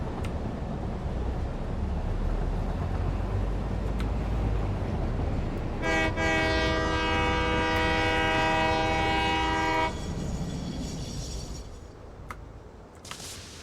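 A train horn in the Satisfactory video game sounds one long steady tone of about four seconds over a constant loud rumble of machinery, with a few sharp clicks afterward.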